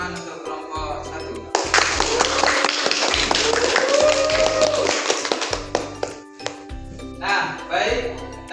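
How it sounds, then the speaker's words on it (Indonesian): A classroom of students claps for Group 1 after a presentation on scarcity, a burst of many hands clapping that swells and then thins into scattered claps, with tapping and talk around it. "Kita beri tepuk tangan untuk kelompok 1"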